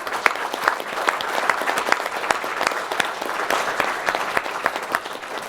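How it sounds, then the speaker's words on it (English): An audience at the Buckhead Club gives a quick round of applause, steady clapping from a room of people that holds at a moderate level throughout. "give them a quick round of applause"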